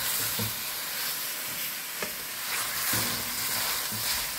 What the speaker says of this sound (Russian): Помешивать, естественно, я буду, чтобы самое главное, чтобы ничего тут у нас не пригорело.